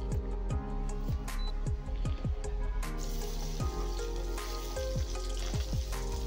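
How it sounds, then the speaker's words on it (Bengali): Steady loud sizzling of onions frying in hot oil in a kadai, with occasional clinks and scrapes of a utensil against the pan. "ভালো করে ফ্রাই করবো এটাকে"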